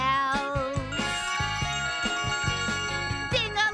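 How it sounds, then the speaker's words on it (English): Bells ring out in a bright, jingling cluster within a musical song, sustained tones layered over a rhythmic backing beat, loud and close throughout. "Everybody listen to the bells."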